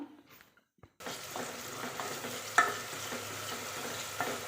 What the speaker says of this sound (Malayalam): പിന്നെ ഒരു 1/4 സ്പൂണ് ഇഞ്ചി വെളുത്തുള്ളി പേസ്റ്റ് കൂടി ഇട്ട് കൊടുത്തിട്ട് നല്ലപോലെ നമ്മൾക്ക് ഇതൊന്ന് വഴറ്റിയെടുക്കാം